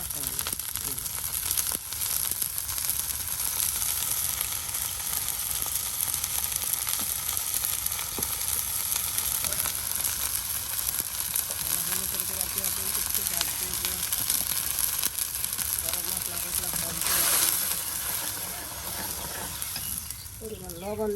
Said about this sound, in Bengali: মশলা একদম ভাজা ভাজা করে নেওয়া হবে।